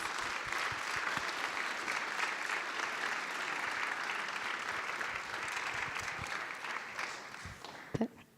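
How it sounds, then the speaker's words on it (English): An audience at an awards ceremony gives sustained applause, steady clapping from a crowd that fades a little near the end, with a brief louder knock at the close. "Let's give her a round of applause."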